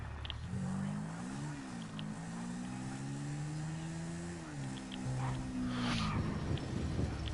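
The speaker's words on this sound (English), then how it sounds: "There's a motorcycle." A motorcycle engine in a video game holds a steady, tonal drone with gentle pitch rises and dips, fairly loud and continuous for several seconds, ending in a brief rougher burst.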